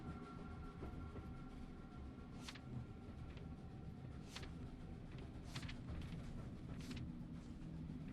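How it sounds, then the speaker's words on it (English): Train departing in The Room Three, a steady rumbling rail noise with faint clickety-clack and brief hissing bursts, continuous and moderately distant with no voices. "I leave on the first train."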